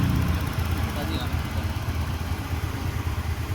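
A Honda Beat scooter engine idling smoothly, a low, even, close putter that runs steadily while someone talks over it.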